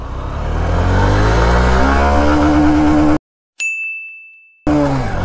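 A 2023 Honda SP 125 BS7 125cc motorcycle pulls away in first gear with a loud, close, rising engine note. A brief silence and a single electronic chime interrupt it before the engine resumes.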